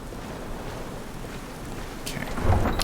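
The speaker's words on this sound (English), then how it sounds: "Now it's starting to rain." Rain falls steadily in Skyrim with a deep rumble of thunder building near the end, broadband and moderately loud, with no talking over it.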